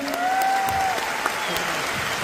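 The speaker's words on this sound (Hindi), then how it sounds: "इसके बाद हमारे एमडी सर के लिए भी जोरदार तालियां होनी चाहिए" A crowd applauding the MD at a company gathering, steady dense clapping over a couple of seconds with a faint whistle-like tone running through it.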